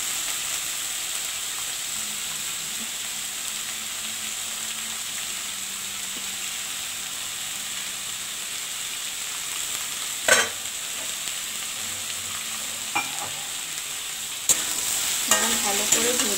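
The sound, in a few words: soybean chunks frying and being stirred in a pan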